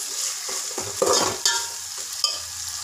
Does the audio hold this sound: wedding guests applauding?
no